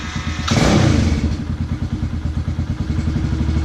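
A Kawasaki KLX 110 motorcycle engine starts with a loud burst, then settles into a rapid, steady, thumping idle for a few seconds, close by, with no talk over it.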